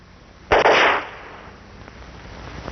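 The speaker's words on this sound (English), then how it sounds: "We do it by firing a string of specially designed charges." Perforating charges fire through oil well casing and cement as one sharp, loud burst, a short blast that quickly fades into a quiet lingering rumble.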